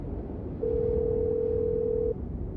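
A steady telephone dial tone holds for about a second and a half over a quiet room background, heard alone as someone is about to dial 911.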